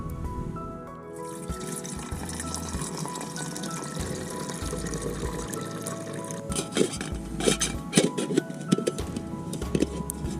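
Water pours steadily into a cooking pot at a remote outback campsite for several seconds, a continuous rushing splash with occasional clinks near the end.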